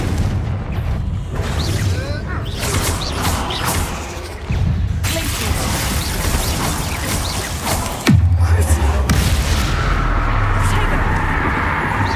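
Confringo fire spell blasts in Hogwarts Legacy, cast during a spider fight: heavy booming bursts and whooshes layered over dense battle noise, with a sharp impact partway through and sustained rumbling afterward.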